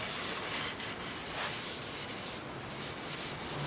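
A wood finish is hand-sanded with 220-grit sandpaper, a close, continuous raspy rubbing with slight rhythmic surges as the paper strokes back and forth.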